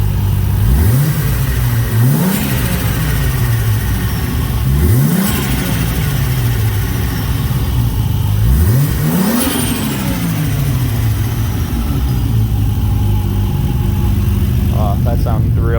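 A 1995 MK4 Toyota Supra idles steadily, broken by four sharp throttle blips that rise and fall back to idle at irregular intervals, loud and close.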